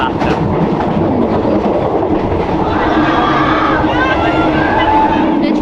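Loud, continuous rumble and rattle of a train running on rails in Thailand, with clickety-clack and a murmur of voices mixed in.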